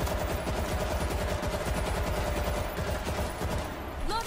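Rapid sustained SMG fire in the zombie shooter World War Z, a dense loud stream of shots with no pauses, ending in a short electronic whine.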